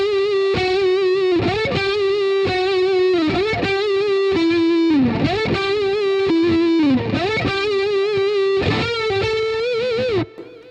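A distorted electric guitar plays a simple melodic solo built around a three-note motif through metal pickups, sustained bending notes with vibrato, loud and alone for about ten seconds before cutting off.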